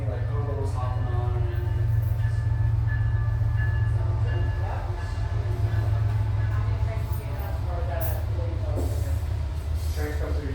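A train rolls past on the tracks with a loud, continuous low rumble and rattling wheels throughout. People talk over the noise.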